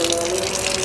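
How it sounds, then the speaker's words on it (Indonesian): Water gushes steadily from an opened tap fed by a pipe, a loud, close, continuous rushing flow with a faint underlying hum. "keran udah saya buka. Lihat tuh. Ya, air mengalir terus."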